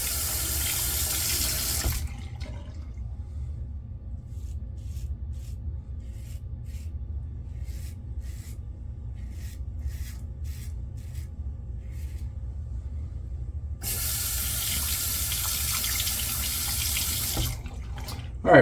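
A bathroom tap runs steadily while shaving lather is rinsed away. There is a strong rush of water at the start, a quieter interval with soft clicks and drips, then the full flow returns near the end.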